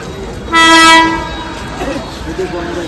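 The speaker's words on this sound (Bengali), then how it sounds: "ছটা উনপঞ্চাশে ট্রেন ট্রেন চলে আসছে" Commuter train arriving at a station, a loud horn blast lasting about half a second near the start, followed by the rumble of the approaching train with some voices in the background.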